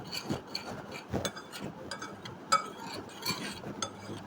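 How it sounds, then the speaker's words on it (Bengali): Flour and baking powder are mixed by hand with a tool in a bowl, giving soft irregular scraping and rubbing strokes with light clinks, close and fairly quiet. "হ্যান্ড টুলস দিয়ে ভালো করে মিশিয়ে নেব।"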